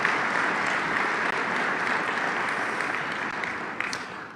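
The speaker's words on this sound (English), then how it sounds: "give them a round of applause" A crowd gives a steady round of applause at a city campaign event, even, broadband clapping from many hands that holds for several seconds and tapers slightly.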